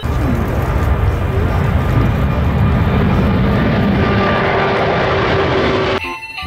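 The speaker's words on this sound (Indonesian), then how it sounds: "Ini pesawat terbang." A toy airplane gives off a loud, steady engine-like drone that holds evenly for about six seconds and then cuts off abruptly, with no talking over it.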